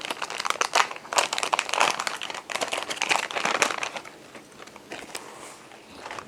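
Plastic bags being handled and filled with freeze-dried chocolate milk, a dense, close crinkling and rustling that runs continuously for several seconds, then eases into softer, scattered crackles.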